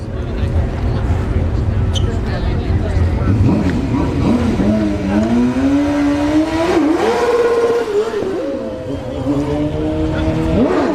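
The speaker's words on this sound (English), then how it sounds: "we got a Gixxer 1000 here in the right lane, and a KTM coming up after" Suzuki GSX-R1000 and KTM motorcycles drag racing at a motorsports park, engines roaring loudly and continuously with rising, revving pitch sweeps as they accelerate, amid crowd babble.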